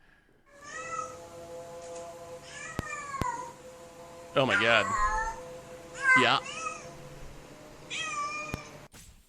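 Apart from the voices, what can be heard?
recording of cat mating call, cat yelling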